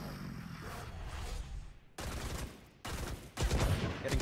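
Gunfire in the video game Valorant comes in sharp bursts of rapid shots that start abruptly and repeat over a few seconds, loud and close, with no talking.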